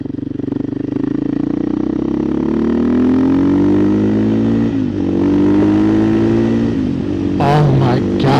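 A 2024 KTM EXC-F 500 TPI dirt bike with an FMF muffler rides up a road, its engine droning loud and close with rising revs, a short dip, and a few throttle blips near the end.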